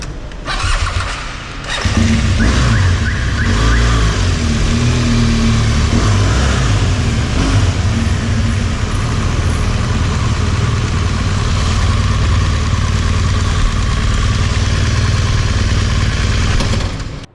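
A big bike motorcycle engine starts up in a shopping mall car park, then idles and revs steadily at close range for a long stretch after a brief quieter moment at the start.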